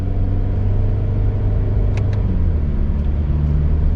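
A 2020 Subaru Impreza Sport hatchback with a CVT drives with a steady, continuous engine drone and road rumble from inside the cabin, holding an even level throughout, with a couple of faint brief clicks partway through and no talking.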